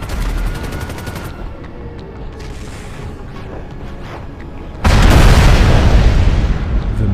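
Deluxo flying car missiles launch in a video game, a sudden loud, sustained roaring burst after a quieter stretch of engine hum and faint whooshing effects.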